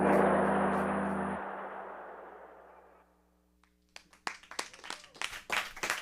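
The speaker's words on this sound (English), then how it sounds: "Yes, clap it up" An audience at a live Hippie Lounge show at InnerSpace in Orlando breaks into a loud wash of applause that gradually fades, followed by a few scattered sharp claps and knocks near the end.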